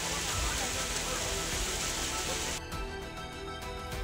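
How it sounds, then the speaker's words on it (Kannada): Heavy downpour during a hailstorm in Karnataka, a dense steady roar of rain on surfaces that thins after a couple of seconds into sharper scattered drops and pattering, with a faint voice underneath. "ಧಾರಾಕಾರ ಮಳೆ ಸುರಿಯುತ್ತಿದ್ದಂತೆ ಜನರು ಊಟ ಬಿಟ್ಟು ಓಡಿದ್ದಾರೆ"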